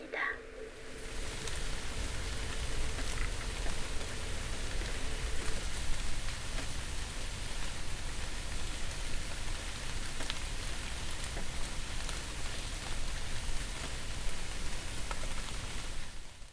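Steady rain falls and patters on lotus leaves in a lotus pond, a constant dense hiss with occasional distinct drops, no voices.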